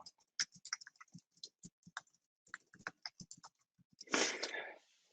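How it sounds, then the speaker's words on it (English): Someone types on a computer keyboard in a quiet room, producing a run of light, irregular clicks and taps, followed by a brief louder rustle near the end. "as I'm typing"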